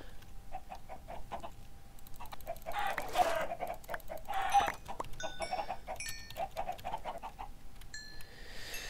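Minecraft chickens cluck repeatedly in quick, overlapping bursts, with several birds close by and a few higher chirps near the end.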